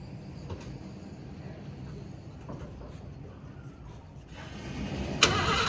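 A quiet low rumble gives way to a 1988 Ford F-150 pickup engine with a Flowmaster 40 exhaust cranking and catching near the end, followed by a louder idling hum close by.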